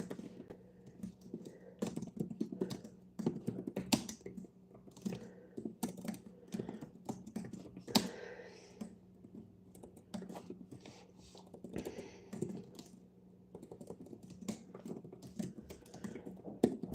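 Fingers type steadily on a computer keyboard, producing close, quiet, continuous irregular clicking and key patter throughout, with no speech.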